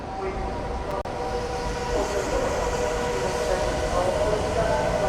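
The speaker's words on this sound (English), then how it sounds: "here we go, monorail, y'all" A monorail train passes nearby, a steady rumbling rush that builds and holds for several seconds, with a brief click near the start.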